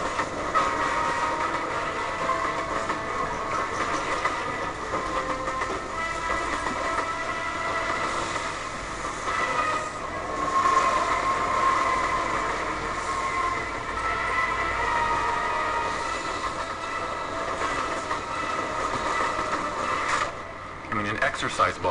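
A train rumbles and rattles continuously, a dense steady clatter of rolling wagons on track used as a sound effect over footage of a child's toy train set, with a brief dip near the end.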